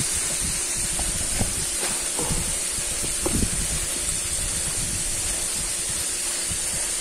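Fish sizzles steadily in hot oil in a home kitchen, a constant loud hissing frying sound with small crackles and pops throughout, no talking.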